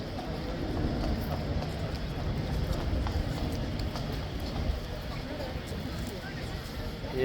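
Horse hooves clip-clop on a hard surface as a new King's Guard horse arrives at Horse Guards, steady close hoofbeats over a busy outdoor crowd murmur with voices talking.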